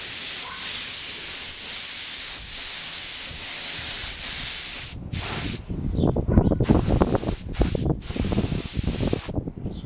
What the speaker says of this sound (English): we have to shoot some more clear on these parts